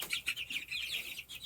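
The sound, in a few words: meat chickens clucking in a cold coop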